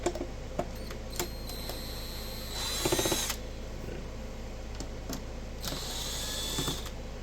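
A screwdriver works screws out of the casing of an HP frequency counter, giving faint intermittent clicks and a couple of short whirring bursts over a quiet background hum.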